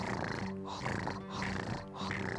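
A cat purring right up close, a deep rumbling in slow, regular cycles of breathing in and out.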